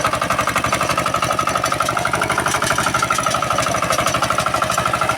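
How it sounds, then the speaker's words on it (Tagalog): A kuliglig hand tractor engine chugs loudly and evenly while being ridden across rice fields, a close, rapid, steady single-cylinder putter with no speech. "Tayo po'y nakasakay ngayon sa ating hand tractor mga kasaka"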